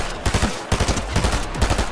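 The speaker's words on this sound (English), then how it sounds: "I hear gunfire." Rapid bursts of automatic gunfire in the Fortnite video game, loud and close, firing in several quick clusters of sharp cracks with brief gaps between them.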